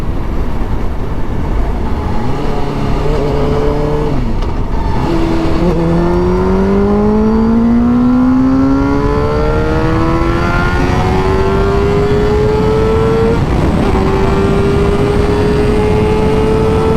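2003 Suzuki GSX-R 600 sport motorcycle accelerating hard on the road, engine pitch climbing steeply through the gears with a brief shift dip, loud and close under heavy wind roar, no talking.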